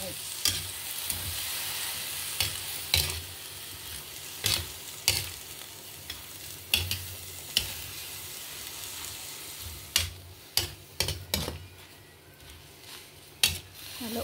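Pechay (Chinese cabbage) sizzles steadily as it is sautéed in a pan for ginisang pechay. A spatula gives repeated sharp scrapes and clanks against the pan, close and clear.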